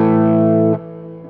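A sustained, heavily distorted electric guitar chord from a dug-in attack into an overdriven amp rings out loud and steady, then cuts off abruptly into a quieter, buzzing decay.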